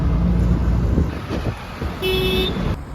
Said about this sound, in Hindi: ट्रैफिक बहुत ज़्यादा ट्रैफिक है।